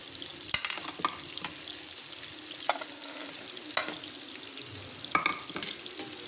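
Biryani masala with tomatoes sautéing in a pan for chicken biryani, a soft steady sizzle broken by sharp spoon scrapes and clinks at irregular intervals, close by and without speech.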